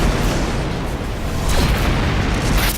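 Explosions rumble through space combat in Rebel Galaxy, a thick, continuous low blast noise with a sharper burst partway through, loud and close with no voices.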